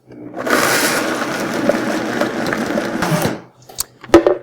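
A blender grinds cashews for a cashew cheesecake tart filling, a loud steady whirring roar for about three seconds before cutting out, followed by a few brief knocks and clatters.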